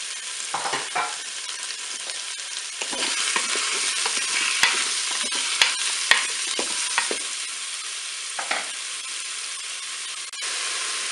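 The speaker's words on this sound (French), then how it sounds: "je vais pouvoir faire revenir mes boulettes de bœuf" Beef meatballs browning in a Cookeo multicooker, with button mushrooms being added, sizzle in a steady hiss, broken by frequent scraping and stirring clicks from a utensil. No one speaks.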